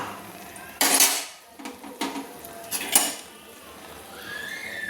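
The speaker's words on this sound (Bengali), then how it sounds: "গোটা শুকনো লঙ্কা ভেজে নেওয়ার জন্য দিয়ে দিলাম" Whole dried red chillies are being fried in a pan for a mashed potato dish. A metal spatula scrapes and clanks against the pan in several distinct knocks, with a faint sizzle underneath.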